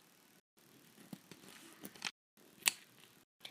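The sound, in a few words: scissors cutting a Ziploc bag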